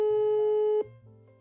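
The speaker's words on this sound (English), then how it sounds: "Is that the normal ringtone?" A phone ringtone plays as a steady, loud electronic tone with bright harmonics, then cuts abruptly to a lower, quieter tone.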